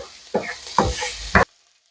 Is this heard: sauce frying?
yes